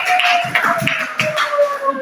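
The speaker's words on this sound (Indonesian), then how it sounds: "beri tepuk tangan." A small classroom group claps briefly, about two seconds of close, uneven individual claps rather than a full roar.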